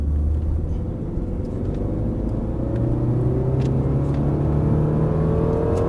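A car accelerating hard on the Dreux race circuit, a loud close engine roar climbing steadily in pitch under constant rumble and wind noise.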